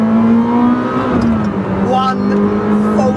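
A Ferrari 458 Speciale with a six-speed manual revs hard through a hairpin, its loud close engine note holding a steady high pitch before dipping and climbing again, with a voice speaking over it.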